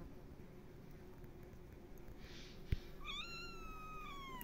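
Triplet kittens in a garden in Kemaliye, Erzincan, Turkey, give a clear drawn-out meow after a quiet stretch marked by one sharp knock, then keep calling over soft background hiss.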